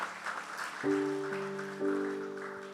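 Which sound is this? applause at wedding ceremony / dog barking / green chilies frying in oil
applause at wedding ceremony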